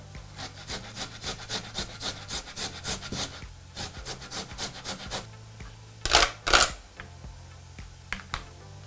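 Food is rubbed against a hand grater, a small piece for a baby's meal, in a home kitchen. It gives a rhythmic series of close scraping strokes, then a couple of louder clattering knocks.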